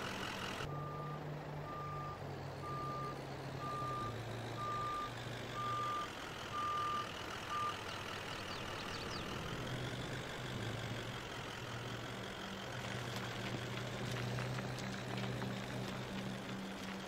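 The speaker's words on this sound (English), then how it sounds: "We'll have to get the Duramax disconnected from the trailer here." A Duramax pickup hitched to a trailer in Farming Simulator 22 backs up with steady reversing beeps over a low idling diesel engine, the beeping fading out partway while the engine hum continues throughout.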